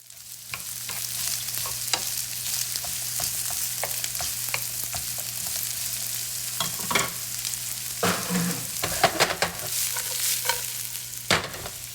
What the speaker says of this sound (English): Add the sliced onion to the pan and cook for about 5 minutes.